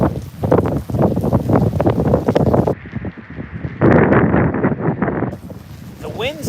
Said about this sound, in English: The winds out here, I want to say we are right about at the 35, 40 mile an hour sustained point.